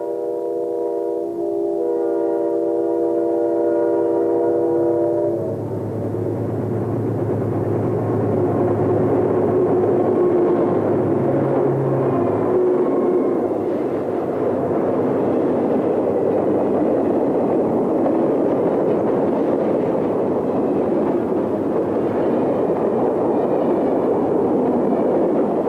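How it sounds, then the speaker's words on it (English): Two General Electric C36-7 diesel locomotives drift downgrade through an S-curve near Elliston with an eastbound train. A low rumble swells and grows louder, then holds as a broad, steady roar of wheels and engines passing close by. "General Electric C36-7s 8527 and 8520 drift downgrade with an eastbound."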